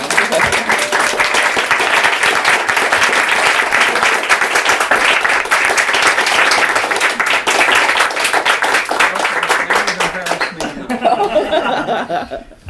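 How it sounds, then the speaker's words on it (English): An audience at a conference gives sustained, dense applause with some laughter, steady and loud for about eleven seconds before it fades out. "maybe we could start with a round of applause for Sandy Stone"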